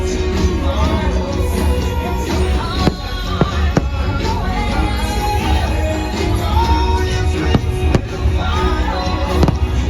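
A fireworks show at Magic Kingdom, Walt Disney World, crackles and booms continuously, with sharp bursts scattered through a loud, steady wash of explosions, music and crowd noise.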